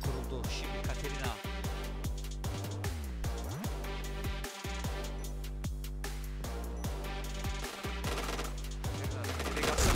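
Rapid gunfire from the Point Blank first-person shooter during an esports league match, dense bursts of automatic shots and sharp reports repeating loudly and continuously throughout.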